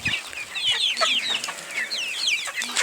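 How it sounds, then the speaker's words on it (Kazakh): Chickens cluck steadily and close by in a farmyard, a dense overlapping chorus of short bright calls with no talk. "Тауықтар бөлек жейді."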